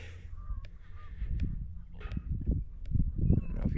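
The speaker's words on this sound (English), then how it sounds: "you guys can hear that, but here comes some geese" Geese honk repeatedly as they fly over a small Montana homestead farm, with loud, irregular calls that grow stronger toward the end and are heard without talk.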